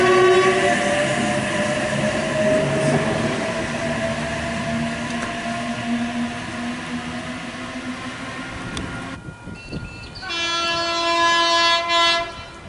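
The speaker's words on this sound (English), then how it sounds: "H42 is now departing platform 1 for all service." An H-set electric passenger train pulls out from a station platform at Corrimal, NSW, with a loud rising motor whine and rumble, wheels clattering, then a horn-like tonal blast near the end, close and without talk.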